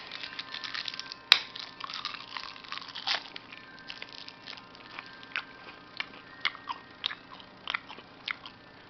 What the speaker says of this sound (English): Chewing gum.